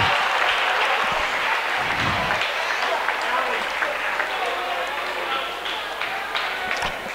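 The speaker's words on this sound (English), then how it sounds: "the starters get a round of applause" Crowd applause in a basketball gym as the Lady Vikes' starting players are introduced, a steady, full round of clapping held at even strength throughout, with voices mixed in beneath it.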